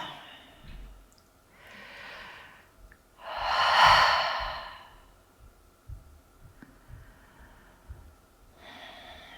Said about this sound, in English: let your eyes slide closed and take a couple of breaths.